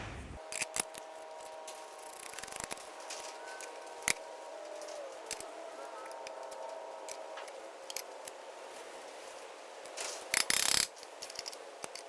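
Valve springs come out of an LS cylinder head on a workbench, with scattered metallic clicks, clinks and ratcheting taps over quiet background, ending in a short louder clatter.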